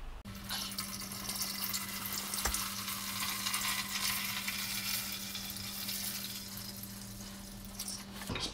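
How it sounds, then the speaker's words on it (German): Diesel fuel pours into the tank of a cheap Chinese parking heater, a continuous close splashing, trickling flow that runs steadily for several seconds before stopping, with no talk. "Also Kraftstoff rein, Diesel."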